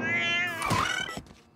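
A cat gives one drawn-out, wavering meow, close and fairly loud, that breaks off with a soft thump near the end.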